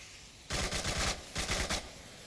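Two rapid bursts of automatic gunfire in the VR shooter Onward during a competitive match, loud and close with a short pause between volleys.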